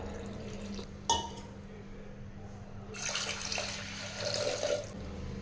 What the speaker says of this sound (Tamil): இதில் ஒரு டம்ளர் தண்ணி சேர்த்திக்கலாம்